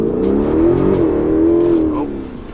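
A 2012 Hyundai Genesis 5.0 R-Spec V8 with traction control off and 140,000-plus miles launches from about 1,000 RPM, its engine revving loud and close with a rising, then dipping tone.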